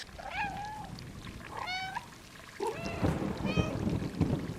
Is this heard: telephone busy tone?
no